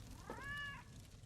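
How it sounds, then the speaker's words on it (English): A single cat meows in the Elder Scrolls Online video game, one short rising-and-falling call at moderate volume over a low background rumble. "It's a lot of cats, a lot of dogs."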